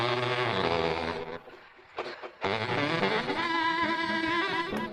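A recording run through a guitar amp plugin with added echo gives a distorted, buzzy, harmonically rich tone, loud at first, dropping briefly to near silence, then returning full with echoing, wavering layers.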